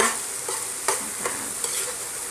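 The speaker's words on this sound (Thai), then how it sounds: "เราก็คน ให้เครื่องปรุงรส กระจายทั่วนะคะ" A spatula stirs pork, egg and tomato stir-fry in a hot pan, with a steady sizzle underneath and a few scraping strokes standing out at intervals.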